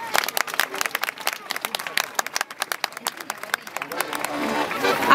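Audience applause at an outdoor dance festival, with a burst of dense clapping from a crowd that swells toward the end, mixed with voices and chatter.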